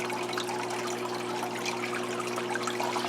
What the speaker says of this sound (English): the reason I'm topping it off with RO water